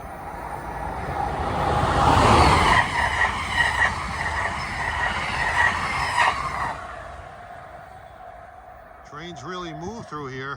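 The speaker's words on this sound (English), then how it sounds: "Here comes an inbound New York transit" An inbound NJ Transit train rushes through a station with a loud, rising roar that peaks and then fades, followed by a person speaking.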